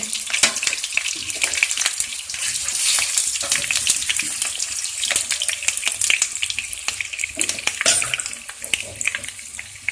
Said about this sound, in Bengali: সেগুলোকে ভালো করে আগে তেলে ভেজে নেব।